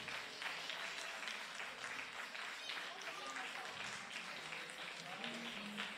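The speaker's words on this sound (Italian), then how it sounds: "Accomuniamo questo applauso con una standing ovation, ci vuole qui." An audience at a band-music concert applauds a performing wind band, steady faint applause throughout with a presenter speaking over it.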